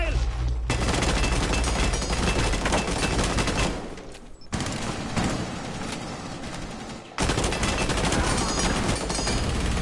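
Dense automatic and rapid gunfire from a Rainbow Six Siege match on PS4, loud and near, with sustained bursts broken by two short drops before the shooting resumes at full volume.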